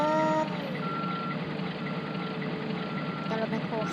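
Excavator reversing beeps in the Wrecking Ball Truck construction-site video game, a steady electronic tone pulsing over a low engine drone, with a voice talking alongside.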